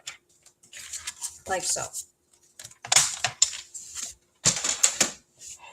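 Scissors cutting card stock up to a score line, crisp snipping bursts in short runs, close and fairly loud, with a voice speaking briefly between cuts.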